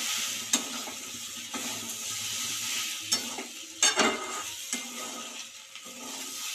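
Soybeans frying in a pan for soybean khichuri: a constant sizzle broken by repeated scraping stirs and a few sharp utensil knocks against the pan, close and moderately loud, with no speech.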